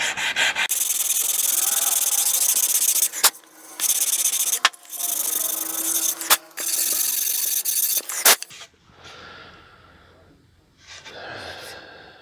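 Sandpaper rasping over glue and sawdust filler in a dent on a guitar body, long loud back-and-forth scrubbing strokes broken by short pauses, fading to quieter rubbing near the end.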